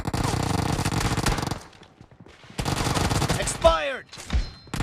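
UZI submachine gun firing in the PUBG video game during a one-versus-two fight: two long, rapid bursts of close automatic fire separated by a short lull, then a brief vocal cry.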